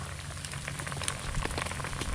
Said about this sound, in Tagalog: Yan naman ang ulan.